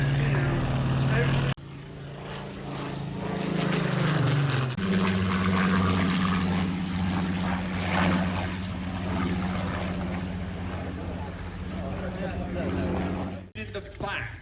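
An M4A1 Sherman tank's Continental radial aero engine runs nearby at a tank show, a steady, loud, throbbing drone that pops away continuously while someone talks over it.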